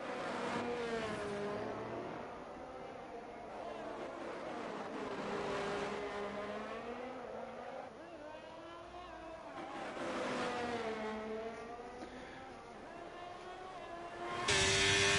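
Formula 1 car in F1 23 at Singapore racing down the first straight, the engine whining up through several gear changes in rising and falling sweeps at fairly close range, with faint commentary underneath.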